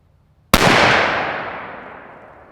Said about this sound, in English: We do have the Ruger in 350 Legend. We'll shoot that real quick. 1 round unsuppressed,